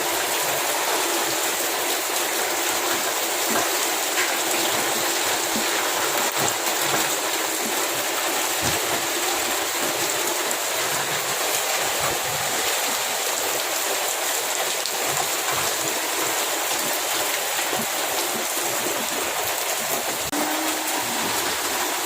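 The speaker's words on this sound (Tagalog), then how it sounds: "Awas ang tubig diri. Sigwak puno kasi sinahan sa kusog. Kaya ang kanal dili na kayo kusog ang baha." Floodwater from a typhoon overflows a canal and rushes along it, a dense, continuous roar of churning water that holds steady and loud throughout without pause.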